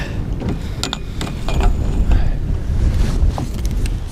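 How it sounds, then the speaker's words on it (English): Strong wind buffets a fishing boat on the water in November while a net is readied for a flathead catfish, a steady roaring rumble with gusty swells and faint water wash close by. "Oh, this wind is not fun to deal with."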